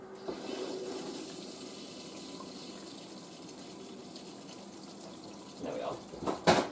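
A washing machine fills with hot water, a steady rushing hiss running throughout before a few louder knocks and clatters near the end.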